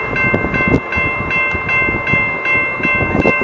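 A Rail Runner commuter train passes close by with a loud, steady rumble and rattle, and sustained horn-like tones run through the full few seconds.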